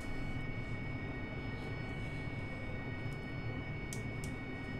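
Steady jet engine roar from an AV-8B Harrier in the DCS flight simulator, preparing for takeoff, a continuous loud broadband rumble with faint high clicks near the end and no talk.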